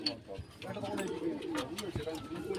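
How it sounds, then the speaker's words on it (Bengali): Female pigeons in a loft of birds kept for sale give soft, low, repeated coos nearby while someone talks over them. "এখানে সব মাদি এখানে সব মাদি পায়রা"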